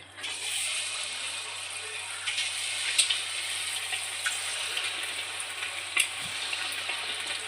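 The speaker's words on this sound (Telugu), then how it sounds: "ఇప్పుడు ఆయిల్ వేడైందండి. ఆయిల్లో పకోడాలాగా వేసుకుందాం." Battered egg pieces frying in hot oil like pakoras give a steady, soft sizzle with faint crackles and occasional small clinks, no voices.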